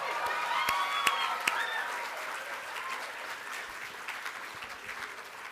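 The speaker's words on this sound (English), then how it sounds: "Let's give them a big round of applause." Audience at the 2024 Braille Challenge finals awards ceremony claps steadily in a large room, with a few louder individual claps early on before the applause gently tapers.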